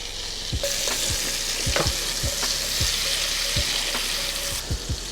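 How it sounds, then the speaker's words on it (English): Diced onion sautéing in melted butter gives a constant bright sizzle, broken by a regular series of low spatula knocks and scrapes against the pan, close and loud with no talking. "So melt that butter, and then we're going in with our diced onion."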